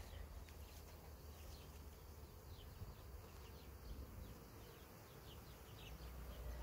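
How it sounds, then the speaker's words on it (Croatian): Honeybees swarming into a hive make a faint, continuous droning buzz that stays even throughout, with no talking. "Velik broj pčela se već pridružio matici i ušli su u košnicu"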